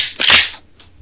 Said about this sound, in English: And this is the sound of me unloading a shotgun.